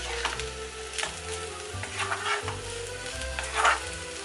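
Egg chow chow rice is stirred in a pot over steady, moderate frying sizzle, with repeated soft scraping strokes at an even pace.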